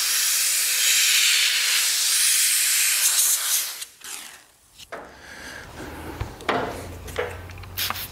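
A steam cleaner used with all-purpose cleaner on the interior of a Porsche 997.2 GT3 RS, giving bursts of loud hissing steam broken by short pauses and scrubbing noises, close up with no talk.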